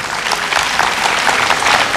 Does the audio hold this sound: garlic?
no